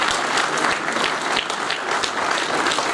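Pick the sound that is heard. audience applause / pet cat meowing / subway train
audience applause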